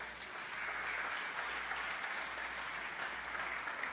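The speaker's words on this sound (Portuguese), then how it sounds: "Agora você dá um aplauso a Jesus aí." A church congregation applauds steadily and evenly throughout, a dense wash of many hands clapping at a moderate distance with no voices rising above it.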